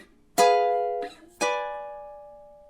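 Ukulele blues phrase with three plucked chords, the first and third ringing out long and bright, a brief softer strum between them, played alone with no voices.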